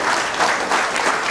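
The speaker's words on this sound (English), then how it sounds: "Let's give a round of applause and thank him for taking time off." Audience applause after an address by an Indian Union Minister at an interactive session, a steady, dense patter of many hands clapping close by, filling the whole moment without pause.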